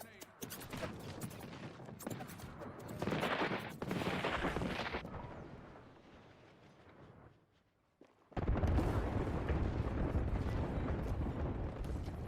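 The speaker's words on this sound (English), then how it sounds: "Look out, grenade." Grenade blast in Apex Legends amid gunfire: loud booming bursts and crackling shots, a quieter fading stretch, then a sudden heavy burst of noise; a voice speaks briefly over the action.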